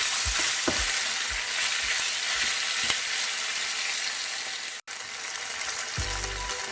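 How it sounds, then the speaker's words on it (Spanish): Marinated chicken sears in a hot pan over medium-high heat, giving a loud continuous sizzle with occasional scrapes and clatters as the pieces are stirred and turned, close up and without speech. "vamos a ponerlo a fuego medio fuerte y vamos a darlo vueltas hasta que se selle bien el pollo"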